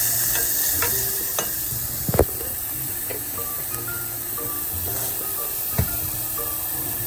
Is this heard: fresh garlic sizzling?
yes